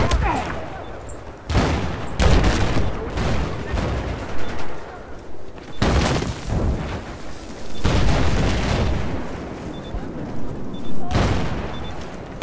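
Battlefield 4 combat with mortar impacts and gunfire: repeated loud booming blasts and bursts of shooting in dense, continuous succession, with a voice talking briefly amid the noise.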